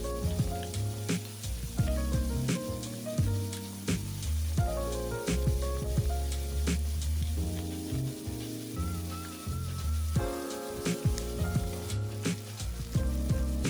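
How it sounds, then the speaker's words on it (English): Beef pieces seasoned with kosher salt and black pepper sear for beef stroganoff, giving a steady close sizzle that runs throughout with faint clinks and stirring bumps and no talking. "We're just looking to get a nice sear, so a few minutes on one side here."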